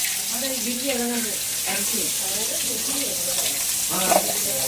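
Chicken and onion frying in a pan, a steady loud sizzle with stirring scrapes, while a person's voice is faintly heard underneath.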